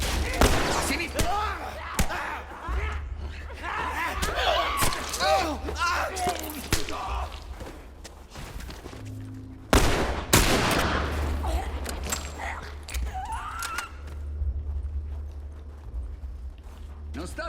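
Gunfire in The Last of Us Remastered: scattered sharp shots crack out amid game noise, with one loud burst near the middle, while voices talk over much of it.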